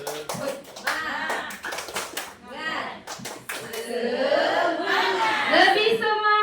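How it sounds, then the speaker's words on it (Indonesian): A group of adults performs a rhythmic spirit clap at a school training session in Indonesia, with quick patterned hand claps mixed with chanting voices and rising group noise. "tepuk semangat."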